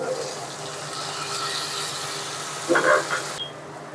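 Water is poured into a pan of fried spice mix for a mustard fish curry, a brief splashing pour rising over background hiss and kitchen noise.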